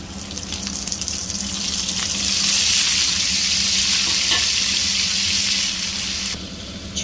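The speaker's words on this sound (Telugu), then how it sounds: "పోపు వేగిన తర్వాత మనం ప్లేట్లోకి తీసుకున్న మునగాకు వేసుకుందాం" Drumstick leaves sizzle steadily in a hot tempering of oil and dried red chillies, a continuous close frying hiss that swells in the middle with faint stirring scrapes.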